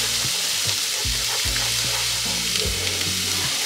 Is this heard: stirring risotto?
yes